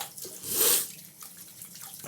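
Water runs briefly from a tap to rinse a slant safety razor during a wet shave, a soft splashing burst swelling and fading within about a second, followed by quiet room hiss.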